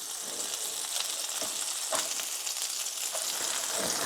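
Burger patties fry in a pan with a steady, dense sizzle and crackle, close and continuous, broken by a few soft scrapes and pops, no voices heard.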